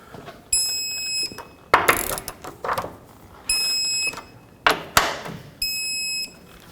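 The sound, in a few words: torque wrench tightening Honda Fit control arm bolts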